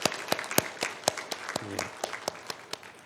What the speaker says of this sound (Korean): 우리 격려의 박수 한번 하겠습니다